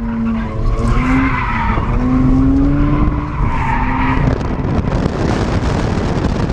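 A Mazda RX-8 engine revs loudly while drifting as tires squeal and skid, the pitch rising and falling continuously with heavy wind noise.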